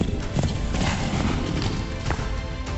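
Horses' hooves clip-clopping in a Kentucky tourism advertisement, a loud steady clatter set within a dense full mix of other sound.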